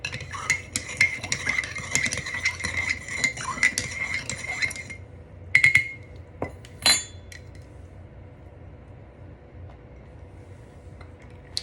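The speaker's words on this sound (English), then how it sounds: "Now I'm going to stir it." A spoon stirs a drink in a cup, clinking rhythmically against the sides for several seconds, then a few louder knocks and a sharp clink before quiet background, close up with no talk.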